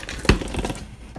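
Plastic packaging is torn open by hand without scissors: a sharp crinkling rip at the start, then continued crackling and crumpling close by.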